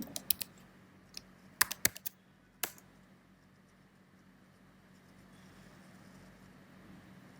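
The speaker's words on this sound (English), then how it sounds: "So I'm gonna type my new password." A password goes in on a computer keyboard: a handful of quick, close key clicks in an irregular burst, then quiet room hum.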